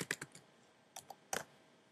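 Typing on a computer keyboard while filling in a web form, heard as a few close, crisp key clicks in short clusters separated by brief pauses, with no talking.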